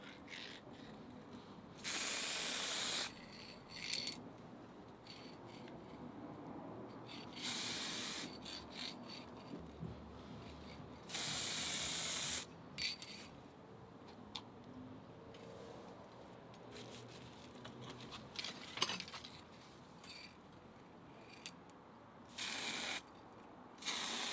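An aerosol can sprays a second coat of paint onto an Epiphone guitar headstock in several separate hissing bursts of a second or two each, close and loud, with soft handling clicks and rattles between bursts.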